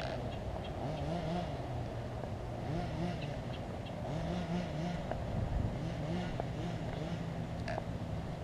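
The gas engine of an HPI Baja 5B 1/5-scale RC car drones at a distance with a steady buzzing note, briefly rising and falling in pitch as it runs outdoors.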